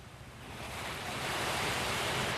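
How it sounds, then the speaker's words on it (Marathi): Nonstop rain on a rainy day falls as a dense, even roar that swells slightly louder and holds steady, with no voices over it. "फुल नॉनस्टॉप पाऊस आहे"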